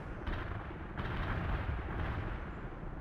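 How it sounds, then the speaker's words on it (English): Artillery fire in the video game World in Conflict makes a continuous, dense roar of distant heavy booms and rumbling blasts with no clear gaps. "that artillery is actually like right on my tanks"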